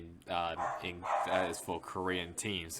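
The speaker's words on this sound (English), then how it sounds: "Apologies for the dogs" Dogs bark and yip in the background, mixed under a man's steady speech throughout.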